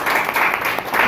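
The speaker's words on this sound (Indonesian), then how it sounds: "Tepuk tangan untuk Tuhan kita, saudara ya." A church congregation claps during a service, a brief burst of crowd applause that swells and dips in a few quick waves.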